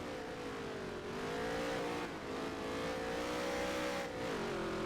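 A NASCAR race car engine revs steadily at high pitch on a dirt road course in NASCAR Heat 3, droning continuously with small pitch dips at gear shifts and no talking.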